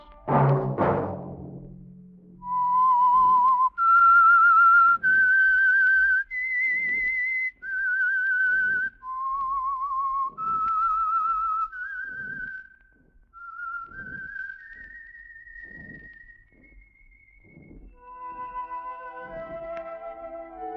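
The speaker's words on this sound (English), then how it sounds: "Let that whistle be your signal for the Signal Oil program, The Whistler" A whistled signal tune for the Signal Oil radio program The Whistler: a lone, close, clear melody of sustained notes that step up and down in a slow, steady rhythm, after a short burst of sound at the start.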